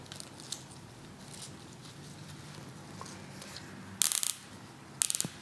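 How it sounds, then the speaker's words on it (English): A plastic zip tie is ratcheted tighter around fresh flowers on a wedding sign, giving two short, close, zipping clicks about a second apart against a quiet background. "So now I'm going to tighten down that zip tie a little bit."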